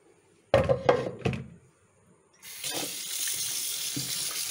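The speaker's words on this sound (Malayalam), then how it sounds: "ഇതിൽ വെള്ളം ഒഴിച്ച്" Water poured over needle anchovies to wash them, preceded by a few sharp knocks, then a steady close splashing pour lasting about two seconds.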